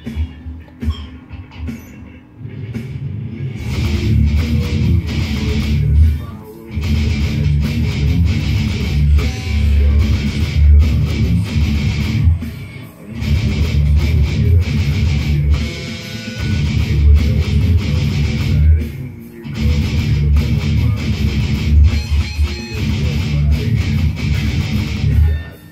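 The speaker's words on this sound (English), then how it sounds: "he's stepping on that whammy pedal, stepping on it all the way, opening it right up, and what you're hearing is basically just the guitar ringing out and feedback." An electric guitar rings out with heavy feedback and a whammy pedal pushed all the way open, producing loud, sustained, distorted droning tones with surging swells and brief dips.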